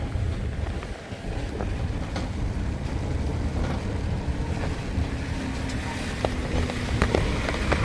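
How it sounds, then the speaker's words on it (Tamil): Heavy rain pours down steadily outdoors in a village, a dense, constant hiss with gusty wind buffeting the microphone and occasional sharp drips and taps. "பாருங்க, மழை கொட்டி கொண்டிருக்குது."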